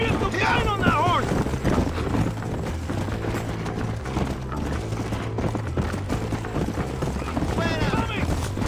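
Horse hooves clip-clop steadily at a gallop in Red Dead Redemption, running under game music, gunfire booms and character voices talking throughout.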